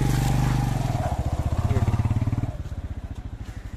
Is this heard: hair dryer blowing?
no